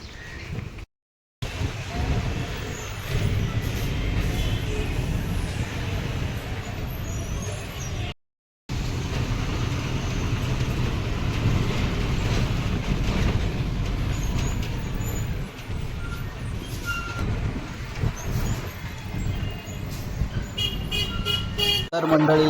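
A bus pulls in near Panvel station with a hiss of air brakes and a short horn toot over steady, loud traffic rumble, with voices mixed into the noise.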